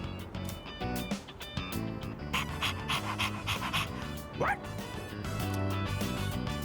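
Dog panting in the Persona 3 Reload video game, rhythmic breathy huffs heard close up over a busy backdrop of game music and sound effects.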